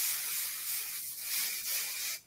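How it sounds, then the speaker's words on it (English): A continuous fine hiss of glossing spray misted onto hair during styling, steady and close for about two seconds before cutting off. "I'll come in afterwards with the glossing spray"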